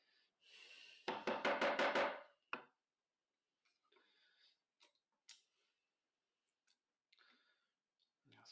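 A chisel is hammered into wood to chop a shaped through mortise, giving a rapid burst of sharp knocks early on, then a few sparse taps and clicks separated by silence.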